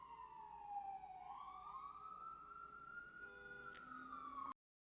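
An ambulance siren wails outside, a loud sustained tone that slowly drops in pitch as it passes before cutting off abruptly.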